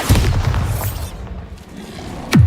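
A Bombarda spell blast in the Hogwarts Legacy video game, a heavy booming burst at the start that rumbles and fades, then a second sharp impact near the end.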